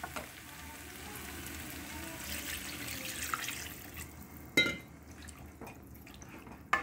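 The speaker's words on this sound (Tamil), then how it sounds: "இப்போ இதுக்கு தேவையான அளவு தண்ணி ஊற்றி நம்ம வேக விடணும்" Water pours into a hot pan of kadai masala gravy, hissing and sizzling, with a few clanks of cookware near the end.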